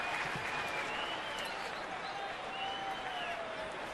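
Baseball crowd at a ballgame letting out a sustained Bronx cheer, a dense wash of mixed jeers and noise from the stands with whistles drifting over the top, steady and loud throughout.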